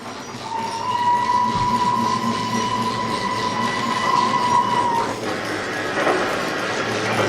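A small tank locomotive shunting wagons works slowly nearby with a steady rumble, a long squealing whine from the wheels, and a clank toward the end.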